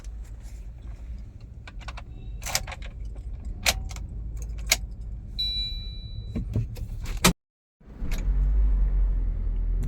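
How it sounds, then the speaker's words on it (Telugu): A car is started after doubts about whether it would run: close clicks and key-like rattles, a brief silent cut, then a steady low engine rumble that keeps going. "యా, స్టార్ట్ అయిపోయింది కార్."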